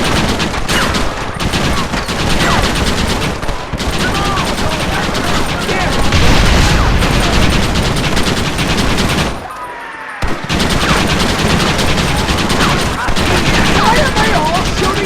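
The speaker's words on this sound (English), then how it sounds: "Why are they all shooting at me?" Dense, loud video-game gunfire from Red Dead Redemption: rapid overlapping shots from many guns in a sustained firefight, with a brief lull near the end before the shooting resumes, and voices faintly beneath.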